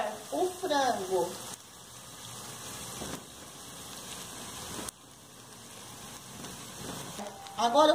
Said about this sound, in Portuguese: Eu vou colocar o frango.